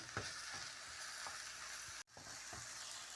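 Lightly mashed potatoes frying in a pan for a spinach-potato dish, giving a steady quiet sizzle with a few soft stirring knocks and a brief cut near the end.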